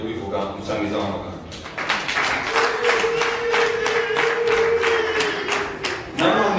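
Guests at a civil wedding ceremony break into a burst of steady hand-clapping that swells from scattered claps into fuller applause and carries on to the end, with a voice talking at the start.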